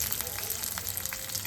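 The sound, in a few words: curry leaves sizzling in hot oil for lemon rice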